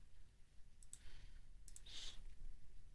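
Mouse clicks in a quiet room, a couple of quick double clicks spaced apart, faint against a low background hum.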